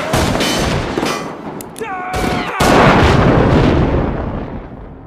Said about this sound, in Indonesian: Sedangkan tembakan Van Cleef ternyata tak satu pun yang berhasil mengenai Roy